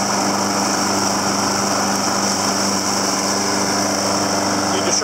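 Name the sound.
John Deere JS60 lawn mower engine running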